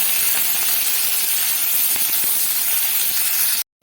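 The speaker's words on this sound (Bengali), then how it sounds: "কালো জিরেটা একটু ভাজা ভাজা করে এর থেকে সুন্দর গন্ধ বেরোলে দেব পেঁয়াজ কুচি" Chopped onion and slit green chillies hit hot oil with fried black cumin, producing a loud, dense, unbroken sizzling hiss that runs evenly throughout and then cuts off abruptly.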